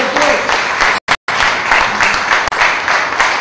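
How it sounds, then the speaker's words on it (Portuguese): A church congregation at a morning worship service claps loudly and continuously, a dense mass of hands with crowd murmur mixed in, broken by a brief dropout near the middle. "E as palmas louvam o nome do Senhor."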